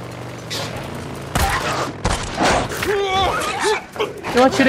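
Bursts of gunfire in the video game Days Gone crack out in quick volleys, mixed with game effects, and a voice talks over the shooting.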